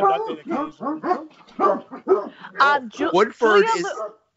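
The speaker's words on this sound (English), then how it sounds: "there are actually 4 dogs in this house right now" Several dogs inside a house bark and yip in quick, close bursts, about two per second, loud and steady for roughly four seconds.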